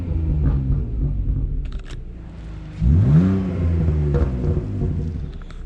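A BMW E46 engine revs to around 3,000 RPM, a loud steady rumble that climbs in pitch and falls back, with faint crackles that may be exhaust pops.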